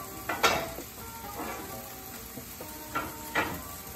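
Tofu and vegetables sizzle in a pan with a steady hiss, broken by several scraping stirs and clinks of a utensil against the cookware.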